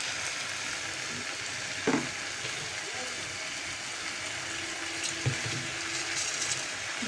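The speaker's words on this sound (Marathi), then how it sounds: "ह्याच्यात थोडंसं पाणी घालूया एकदम पण जास्त नाही घालायचं" Water splashes into a pan of frying cluster beans and potatoes with grated coconut, over a steady broadband sizzle with one brief louder burst near the start.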